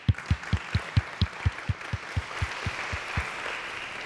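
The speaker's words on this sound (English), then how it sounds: "Can we give them a round of applause?" A single nearby pair of hands beats out a regular rhythmic clap about four times a second over a soft audience applause following a parliamentary panel discussion, the claps fading after about three seconds.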